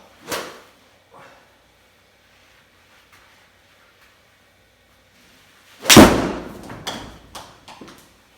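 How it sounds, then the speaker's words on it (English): A full 8-iron swing strikes a golf ball on an indoor simulator setup: one sharp, loud crack of impact with a brief ringing decay, preceded by a faint earlier tap and otherwise quiet. "Yeah, that was a full swing 8-iron."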